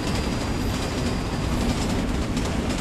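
A video game train rushes along rails at high speed, a loud continuous rumble with rattling wheel noise and no talking.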